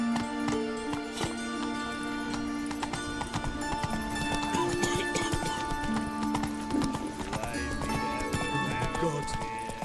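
A horse gallops in the video game The Witcher 3, with steady clip-clop hoofbeats and a whinny over a layer of game music and ambience.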